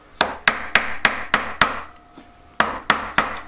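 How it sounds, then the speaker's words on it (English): Metal hammer striking a jewellery ring on a steel ring mandrel: a steady run of six sharp, ringing blows, a short pause with a faint tone, then four more strikes, close and loud with no talk. "I hook it on there and I'm kind of pushing it up as I hammer it."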